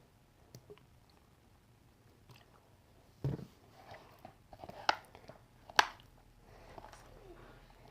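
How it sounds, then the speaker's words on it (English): Glitter slime kneaded by hand inside a container gives off soft, scattered squishes and sticky pops, a few sharper squelches standing out over near-quiet. "Just need to knead it inside the container"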